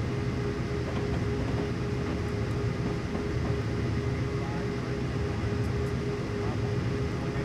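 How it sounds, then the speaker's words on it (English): A BNSF ES44DC diesel freight locomotive coasts downhill on Marias Pass in Train Simulator 2016, making a steady, dense rumble with a constant hum that holds at an even loudness throughout. "I'm going to let the train just coast downhill."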